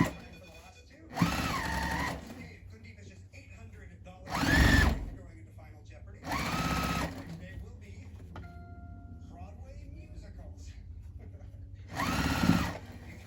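Sewing machine stitching pieces of a fall pumpkin quilt block together, with several separate bursts of whirring motor, each a second or two long, spaced by pauses with a low hum under them.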